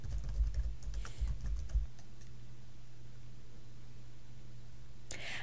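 Login details are typed on a computer keyboard. A short burst of quick, close key clicks runs for under two seconds, followed by a low steady hum and a single faint click near the end.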